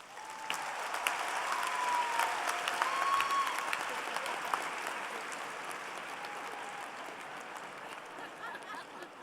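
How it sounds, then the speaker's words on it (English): Graduates at the 2017 UCLA College commencement ceremony clap and cheer in a large, steady burst of applause that swells slightly and holds for the full stretch, with scattered whoops rising above the dense crowd noise. "Give yourself an applause"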